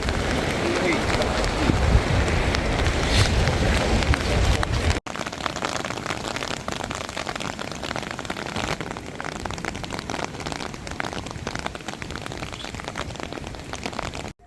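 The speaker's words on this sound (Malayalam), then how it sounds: "നല്ല തണ്ടർ സ്റ്റോം മഴ, ഇടിവെട്ടി മഴ." Heavy rain from a thunderstorm in Zakopane in the mountains, a loud dense downpour for the first five seconds, then a steadier, softer wash of rainfall that continues to the end with no voices.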